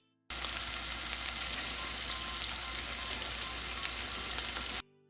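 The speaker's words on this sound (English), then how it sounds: "put the stick in. If you hear this sound, you know it's having a nice sear." Steady, loud sizzling of steak searing in a hot pan, continuous and close, with no talking.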